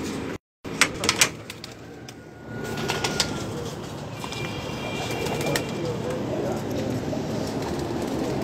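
Golden pigeons coo and flutter close by, with soft repeated calls and brief bursts of wing flapping over a steady background hum.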